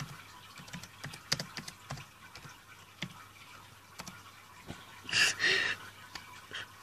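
Quiet, scattered clicks of typing on a computer keyboard while chatting with Cleverbot, irregular taps spread across the stretch with a brief louder rustle near the end, no talking.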